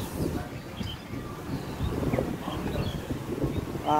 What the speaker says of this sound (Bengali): কেমন বাতাসটা বলো।